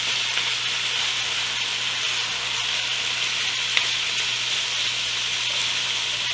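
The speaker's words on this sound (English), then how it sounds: "So I'll give that a good stir, and we'll just cook it for a minute or 2" Cabbage egg roll stir-fry with sesame oil sizzles steadily in a hot pan, with a close, continuous frying hiss and occasional stirring scrapes, no talking.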